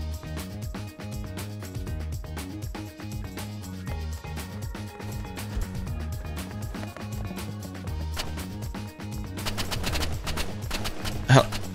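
Pay-to-win weapons in the Roblox game Rivals fire dense, rapid bursts of gunshots that run continuously throughout, layered with a steady backing track and growing busier near the end.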